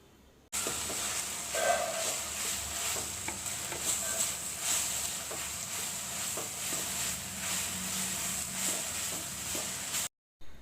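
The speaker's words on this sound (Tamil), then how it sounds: "ஸோ இது எல்லாமே எண்ணெயில் நல்லா வதக்கி எடுத்துக்கலாம்." Steady sizzling of herb leaves sautéing in oil in a hot pan, a continuous hiss with occasional stirring sounds, close and moderately loud.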